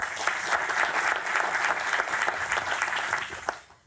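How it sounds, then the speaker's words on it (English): An audience at a World Economic Forum open forum on agriculture applauds, producing a steady, dense wash of clapping hands that holds at an even level and then fades out near the end. "Round of applause, please."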